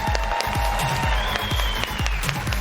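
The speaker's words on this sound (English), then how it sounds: "keep that applause going" Steady applause from a cosplay contest audience at TwitchCon 2019, dense and sustained throughout, with scattered louder claps and a faint tonal hum running underneath.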